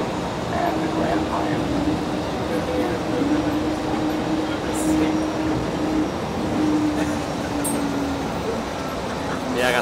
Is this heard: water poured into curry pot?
no